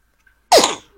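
One sharp, loud sneeze bursting out close after a near-silent pause, part of a run of repeated sneezing, with no talk.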